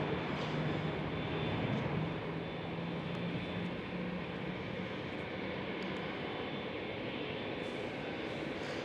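A KLM Cityhopper Embraer E175 departs Schiphol runway 24 with a broad, steady jet engine roar, heard at a distance and holding an even level, with no one speaking.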